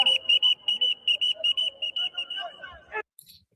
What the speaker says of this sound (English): he ain't stopped blowing that whistle